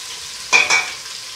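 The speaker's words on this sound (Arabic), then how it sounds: "راح نحطوا البصل والزرودية، نضيفوا عليهم 3 فصوص تاع الثوم و2 وريقات تاع الرند، ونخلوهم يتقلاو شويه" Onions, carrots, three garlic cloves and two bay leaves hit hot oil, giving a brief loud sizzle burst followed by a second shorter surge before settling into a faint steady frying hiss.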